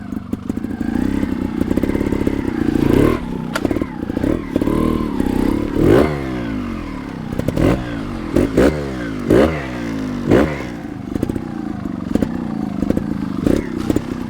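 A 2021 GasGas 300 TXT Racing two-stroke trials motorcycle engine idles and revs in repeated sharp blips, with some clatter and thuds from the bike, close and loud throughout.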